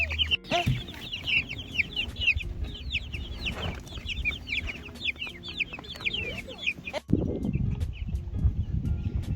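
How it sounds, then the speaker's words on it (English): Chickens cluck and squawk repeatedly in a busy, close flock, with bursts of rustling and handling noise underneath. "So today the chickens arrived."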